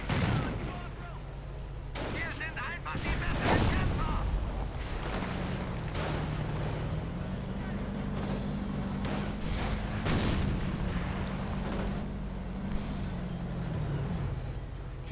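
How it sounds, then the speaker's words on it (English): In a WWII strategy video game, repeated grenade explosions and bursts of gunfire crack and boom through a dense battle soundscape, with a commentator talking over much of it. "lots of grenades getting exchanged"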